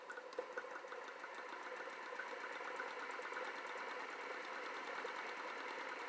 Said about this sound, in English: And it's still turning over the motor.